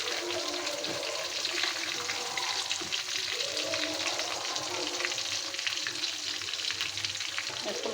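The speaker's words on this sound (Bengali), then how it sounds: "দেখেন কত সুন্দর লাল লাল করে ভাজা নিচ্ছি।" Chicken pieces fry in oil for kacchi biryani, a steady, moderately quiet sizzle with occasional stirring scrapes and no talking.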